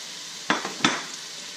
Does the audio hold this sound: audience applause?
no